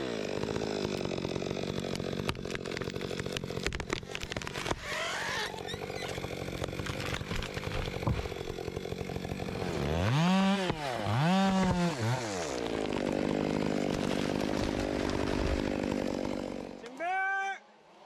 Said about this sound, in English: massive trees crash to the ground under the fierce roar of the chainsaw